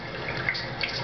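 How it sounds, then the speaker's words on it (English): Rushing water floods a tunnel in the video game Ninja Gaiden Sigma, a steady close wash with a faint faucet-like trickle and small splashy accents, no voices over it. "Water? It's water!"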